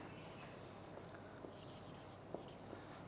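A pen scratches across paper while a note is written during a lecture, a soft, steady scribbling with small taps, close and quiet, without speech.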